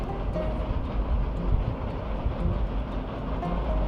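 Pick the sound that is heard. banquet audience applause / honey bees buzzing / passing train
passing train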